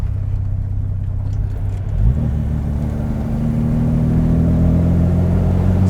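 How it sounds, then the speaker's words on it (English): A 1963 Aston Martin DB4 engine rumbles close by, then revs up and pulls steadily through the gears, its pitch climbing as it accelerates with a steady, continuous drone. "So she's going through the gears nicely"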